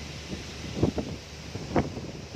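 Cool wind blowing through tree branches outdoors at night, a steady close rushing hiss with a few stronger gusts swelling and fading.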